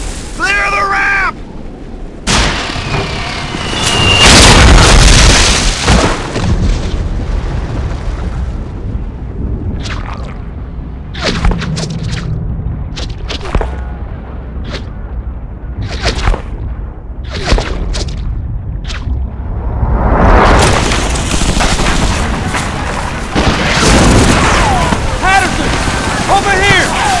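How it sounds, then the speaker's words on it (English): Artillery shells exploding on a beach in the Medal of Honor Frontline video game, with deep heavy booms and sharp blasts recurring across the scene and voices shouting over the din. "Artillery strike scattered what's left of our squad all over the beach."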